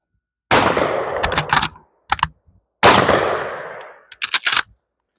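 An old 16 gauge bolt-action shotgun fires twice, loud and close at a clay shoot. After each blast comes a burst of sharp clacks as the bolt is cycled.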